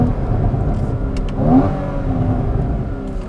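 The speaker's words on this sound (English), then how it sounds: "this exhaust sounds like Porsche made it" A Porsche 981 Cayman with factory sport exhaust drives past, its engine note a full, rich steady drone that swells briefly as it revs mid-pass, fairly close and loud with no voices.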